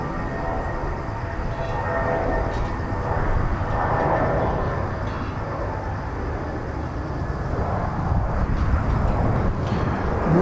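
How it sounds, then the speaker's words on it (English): Garuda Indonesia airliner taxiing into position for takeoff at Incheon Airport, Seoul, a steady low engine rumble and whine that holds level throughout, moderately distant and continuous with no talk over it. "Garuda about to taxi into position for takeoff."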